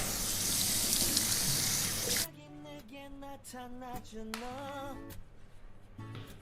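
A bathroom sink tap runs steadily while someone washes their face, a dense close gush of water that cuts off after about two seconds, leaving quiet background music.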